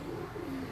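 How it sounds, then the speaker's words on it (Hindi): Pigeons coo softly in a short, steady low murmur, the calls blending into a continuous close hum with no other sounds over them. "अभी काफी कबूतर हैं, वो आपको दिखाऊंगा।"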